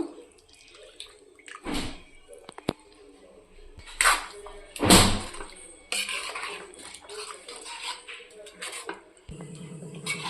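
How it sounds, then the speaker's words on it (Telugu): Water from a mixer jar splashes and trickles into a pot of brinjal curry in several bursts, with clinks of metal utensils and faint background noise; no one speaks. "మిక్సీ గిన్నెలో కొన్ని వాటర్ వేసి అవే వేస్తున్నానండి నేను"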